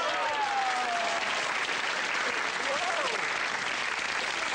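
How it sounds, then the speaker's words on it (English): Studio audience on a 1989 TV game show applauds loudly and continuously, a dense even wash of clapping with a few whoops on top and no talk over it. "A big round of applause, ladies and gentlemen."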